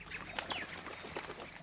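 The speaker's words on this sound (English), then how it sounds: "Like hearing the birds chirping and you know the waterfalls and everything like that." Jungle birds in the game Shadow of the Tomb Raider give a few quick, faint chirps over a soft ambient background, with no talking.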